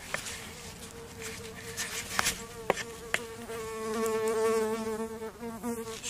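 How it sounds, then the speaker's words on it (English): A bee buzzes around close by, its droning whine wavering in pitch as it moves, rising louder toward the end, with a few sharp knocks and clicks from nearby work. "It's a bee."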